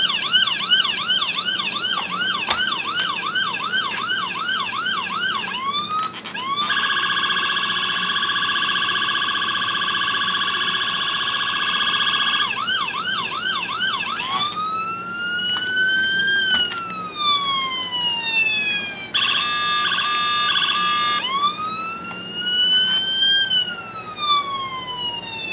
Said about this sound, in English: a four-tone siren.